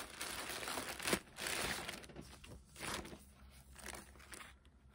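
Assorted craft papers crinkle and rustle close by as they are handled, in several bursts of soft crumpling with brief pauses between them.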